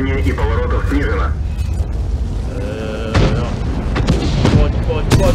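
Cannon blasts from a T-62A tank in a video game, booming and heavy against a constant engine rumble, with someone talking excitedly over the shots.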